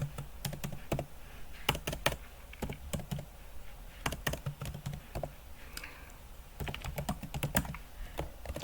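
Close, crisp keystrokes on a computer keyboard as Excel formulas are entered during ITQ exam practice, arriving in quick irregular bursts separated by short pauses, with no talking.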